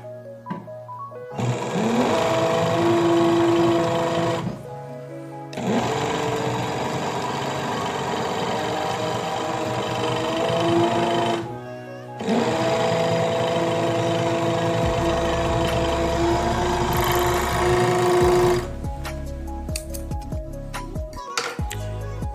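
A Pico sewing machine stitching in a steady mechanical whir, running in three long stretches separated by brief pauses, close and fairly loud.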